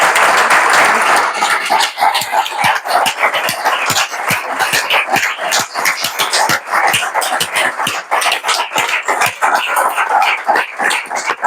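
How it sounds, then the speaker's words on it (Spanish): Audience applause at a book event, loud and close with sharp separate claps in an uneven rhythm, some barking-like bursts mixed in. "Y un aplauso para Marco."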